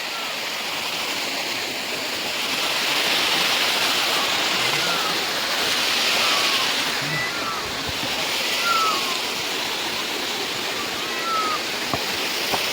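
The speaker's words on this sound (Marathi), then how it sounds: "तुम्ही फक्त बघा हे पाणी आता वरून खाली चाललंय" Water pours downhill at Lonar lake in a continuous, fairly loud rushing wash that swells slightly midway, with faint chirps from birds above it.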